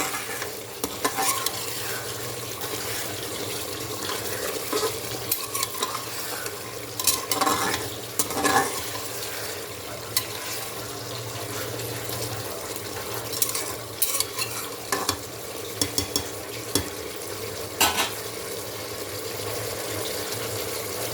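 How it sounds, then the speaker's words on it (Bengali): Meat being sautéed with red and green chilies in a pan, a steady sizzle under repeated scraping and stirring strokes of a spatula, close and continuous with no talking. "এবার মাংসটাকে ভালো করে কষাতে হবে।"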